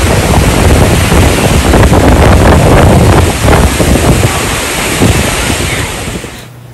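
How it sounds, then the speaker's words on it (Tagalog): Strong typhoon wind roars and buffets the microphone outdoors, a loud, dense rushing blast that holds steady for several seconds before easing off and cutting out at the end, with no speech. "ang lakas talaga ng hangin dito"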